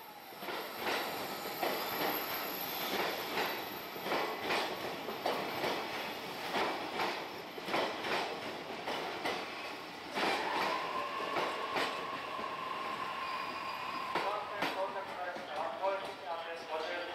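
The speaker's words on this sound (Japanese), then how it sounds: "少し遅れて甲津止まりの列車が到着。" A commuter train terminating at Kozu pulls into platform 4 on the Tokaido Line, wheels clattering steadily over rail joints with a long, drawn-out brake squeal as it slows, with voices faintly in the background.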